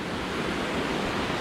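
Water pours at Huluganga waterfall with a dense, even roar of white noise, loud and unbroken throughout the brief moment, with no voices.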